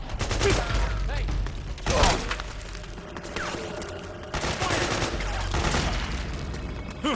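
Gunfire crackles through a Metal Gear Solid 4 battle scene, bursts of rapid shots with heavy low thumps recurring every few seconds, mixed with tense music and occasional voices.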